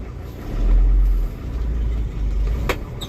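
A car engine drones steadily while the car is driving, rising and easing slightly as gears change, heard from inside the cabin with no talking.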